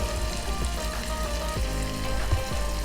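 Blue Band margarine fries in a hot pan, giving a steady close hiss with light popping crackles, even in level throughout and free of speech.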